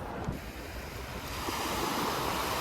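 Sea waves wash steadily against the shore beside Fukuoka Tower in Japan, a dense continuous roar mixed with wind buffeting the microphone, no voices.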